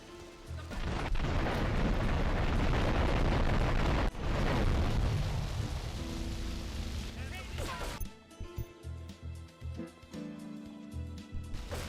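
Truck explosion in Grand Theft Auto III: a loud sustained roaring blast with rumbling debris for several seconds, dropping into quieter game ambience with a low hum afterward.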